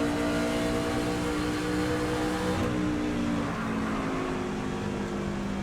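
A race car engine in a racing video game drones at steady, high revs as it gets back onto the throttle, a continuous buzzing tone that shifts pitch slightly partway through, loud and unbroken, with no voices.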